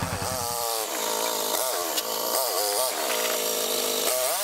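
A small snow blower engine revs high and buzzing like a chainsaw, running continuously and close while clearing snow, with pitch rising and falling as it works.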